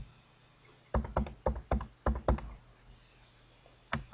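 A password typed on a computer keyboard: two quick bursts of crisp, close key taps, about six keystrokes, a pause, then a couple more taps, with no talking.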